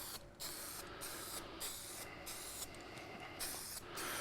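Short bursts of spray paint hissing onto odd-shaped brake parts, about seven quick sprays with brief pauses between, close and fairly quiet.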